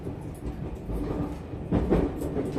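A JR Central 373 series express train running, heard from inside the car: a steady low rumble of wheels on track, with a louder clack and surge near the end.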